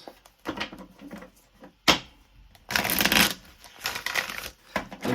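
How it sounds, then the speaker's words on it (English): Tarot cards are shuffled by hand in irregular bursts of riffling and papery slapping, with short pauses between rounds and one longer, louder shuffle near the middle. "what I do is I shuffle them"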